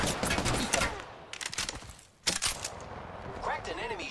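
Bursts of automatic gunfire from Apex Legends firefights, with rapid volleys early, a sharp loud burst midway and quieter shots later, mixed with game voice lines and effects.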